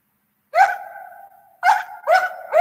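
A dog barks and yowls up close, one long drawn-out bark followed after a pause by two or three more in quick succession against silence.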